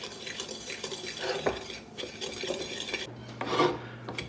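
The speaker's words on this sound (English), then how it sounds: "you can do it with a hand whisk like me" A hand whisk works sticky toffee pudding mixture in a bowl, making close, uneven rasping and scraping strokes with occasional clinks against the bowl's side.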